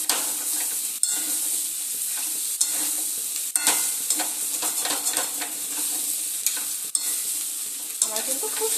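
Crab and potatoes being sautéed in a spicy masala with Everest chicken masala, a steady close sizzle punctuated by spoon scrapes and knocks against the pan, no voices.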